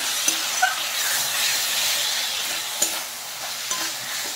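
Ridge gourd and fish curry with chili powder fries in a pan, giving a loud, close, hissing sizzle with a few sharp stirring clanks against the pan and no talking.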